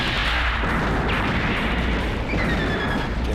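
Rapid zapping beam weapon fire and blasts from Mobile Suit Gundam: Federation VS. Zeon gameplay, a dense, loud, continuous barrage of game combat effects with no talk over it.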